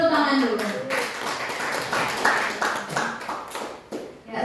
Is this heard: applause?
yes